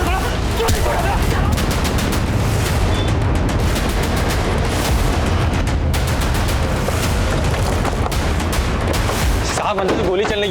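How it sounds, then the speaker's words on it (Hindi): Gunfire in a TV crime drama: a long, dense barrage of rapid shots and booms, loud and continuous, with a voice briefly breaking through near the end. "साहब, अंदर गोली चलने की आवाज आई थी।"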